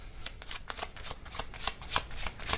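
Oracle-style message cards shuffled by hand, a quick run of close, crisp riffling flutters in a steady rhythm for a couple of seconds.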